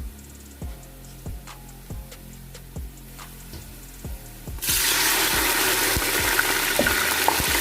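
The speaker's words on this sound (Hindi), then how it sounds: "पानी का छींटा लगाएंगे इसको।" Onions fried nearly brown for vegetable pulao hit by a splash of water, with soft rhythmic clicking of stirring giving way midway to a sudden, loud, steady hiss of sizzling that continues to the end.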